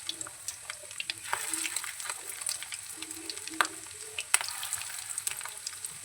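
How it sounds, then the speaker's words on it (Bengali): Fish roe fritters sizzle and crackle in hot oil, a steady low hiss broken by sharp pops and small spatters. "বড়াগুলি তেলে ছেড়ে ভেজে নিচ্ছি।"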